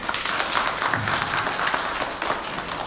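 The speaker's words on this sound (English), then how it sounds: "Please clap for them." An audience at a Ganesha Nimmajjanam celebration in Texas claps for the temple priests, a dense, steady round of applause at moderate volume throughout.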